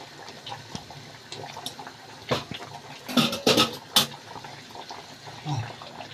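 Water is poured into a pot of okra during cooking, a few brief splashing gushes rising over a quiet kitchen background with faint bubbling.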